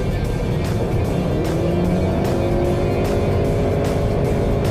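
A 2019 Honda CR-V Hybrid with a single-ratio transmission accelerates, giving a loud, steady engine drone with a rising whine and a faint tonal hum, no talk over it.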